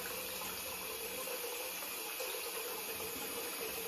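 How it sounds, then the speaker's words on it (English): Warm water runs steadily from a tap for wetting the face before cleansing, a constant close rushing hiss with no voices. "wet face with warm water"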